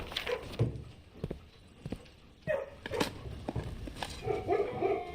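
A dog in the video game Blue Prince gives a few short, scattered barks amid soft footsteps and light game noises, fairly quiet overall.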